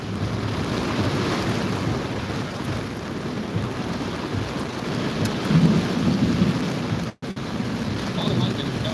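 A thunderstorm during tornado chasing in Indiana, with a constant loud roar of wind and rain and a deep thunder rumble, heard close and continuous with a short dropout near the end; a voice is faintly present.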